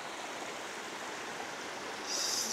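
Stream water flowing down and under rocks makes a steady, even rushing wash, close and continuous, with a slight brighter hiss toward the end.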